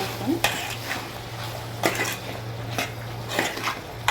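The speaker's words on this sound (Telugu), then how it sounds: "టమాటా వేసుకున్న తర్వాత ఒకసారి కలుపుకొని" A spoon stirs tomatoes into chicken curry in a pot, giving several distinct scraping clanks against the metal over a faint sizzle and a steady low hum, close and fairly loud.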